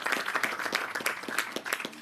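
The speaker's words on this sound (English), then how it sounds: "Let's give them a good round of applause." Applause from a small audience at a groundbreaking for affordable senior housing, scattered claps with distinct individual hits, moderately close and steady for about two seconds, with no talk over it.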